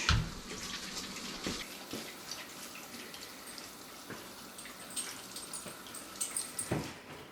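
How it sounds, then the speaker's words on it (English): Hands washed under a running kitchen tap make a continuous low water rush with small splashes and a few clunks, fairly faint and without speech. "let me wash my hands real quick"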